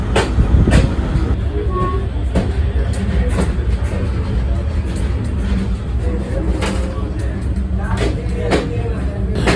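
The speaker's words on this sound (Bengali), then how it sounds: "ট্রেনের দুই বগির মাঝের অংশটা আমার সবসময় খুব ইন্টারেস্টিং লাগে আমি ট্রেনে উঠলে এই জায়গাটা একটু দাঁড়িয়ে দেখি" A moving train heard from the open gap between two carriages: loud, continuous rumbling and rattling of the wheels and couplings, with sharp metallic clanks recurring now and then, close and unbroken throughout.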